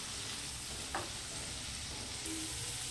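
Spice paste with green chillies fries in a pan, a steady close hiss of sizzling oil running throughout, with a brief stir-like scrape near the start.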